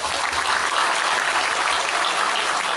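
Dense, loud applause from a large gathered audience for a music ensemble, a continuous wash of clapping with no voices over it.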